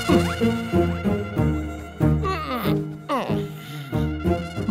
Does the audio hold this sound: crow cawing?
no